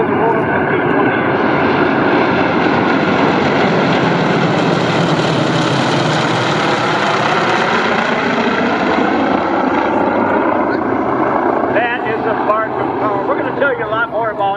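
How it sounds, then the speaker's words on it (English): A North American T-28 warbird arrives at EAA AirVenture 2024, its big high-horsepower radial engine roaring loudly as it passes. The pitch sweeps as the plane goes by, with other aircraft noise and announcer talk underneath. "listen to the roar of the T-28"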